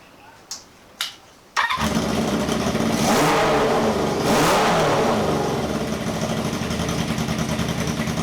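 A 1978 cafe scrambler motorcycle engine catches after a couple of short cranking bursts, then runs loud and close, rising in a blip of revs before settling into a rough, lumpy idle.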